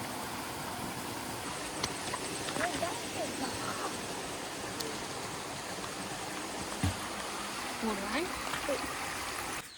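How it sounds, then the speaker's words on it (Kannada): A forceful stream flowing through an arecanut plantation in Thirthahalli, Shivamogga, makes a constant broad rushing roar, with faint voices and occasional small sounds layered over the water. "ತುಂಬಾ ಫೋರ್ಸಾಗಿ ಹರಿತಾ ಇದೆ, ಸೌಂಡ್ ಕೇಳಿಸ್ತಿರ್ಬೋದು ನೀರ್ದು."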